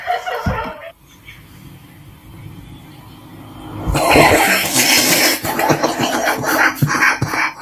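A smoker's short cough, then quiet, followed by a burst of harsh, raspy coughing mixed with wheezing laughter and rustling.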